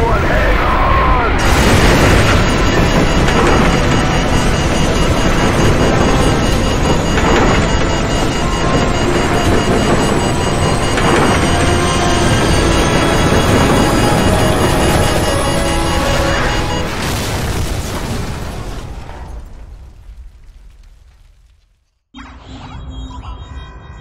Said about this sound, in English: What appears to be an explosion of epic proportions.